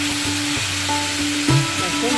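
Oil sizzles and crackles steadily in a wok as a spatula stirs through frying fish curry with tomato and onion, a close, continuous hiss punctuated by soft scraping knocks.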